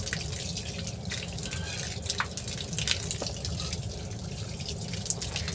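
Fresh fish being washed under running water, a steady trickle and splash with scattered drips and small knocks against the bowl or sink, fairly close.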